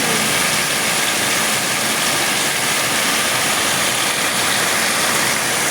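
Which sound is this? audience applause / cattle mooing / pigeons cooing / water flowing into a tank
water flowing into a tank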